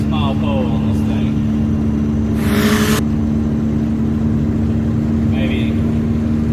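A turbocharged Honda Civic drives on the road with a steady, loud engine drone heard from inside the car, a brief louder burst in the middle and no clear build of acceleration.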